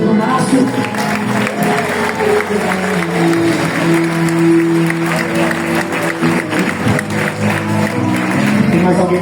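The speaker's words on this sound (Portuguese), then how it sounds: "Quem pode aplaudir a Deus pela vida do Márcio?" A church congregation applauds loudly and steadily, with a sustained musical tone or keyboard chord ringing beneath the dense clapping and crowd noise.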